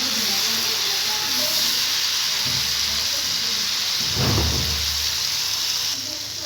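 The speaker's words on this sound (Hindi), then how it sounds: "इसके साथ अब हम इसमें शामिल करेंगे 3 अदद टमाटर की पल्प" Tomato pulp added to a sizzling dal tarka masala brings a steady, dense hiss of frying throughout, with a brief louder sputter as the wet pulp hits the hot pan.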